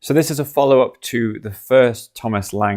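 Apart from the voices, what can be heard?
No distinct noise like a dog, phone or traffic.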